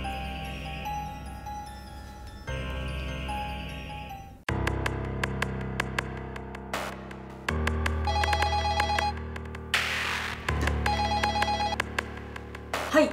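A landline telephone in a family home rings in repeated electronic bursts with short gaps between them, over a steady indoor background and with no talking.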